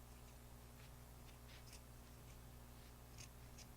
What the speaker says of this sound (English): take your scissors and you want to snip off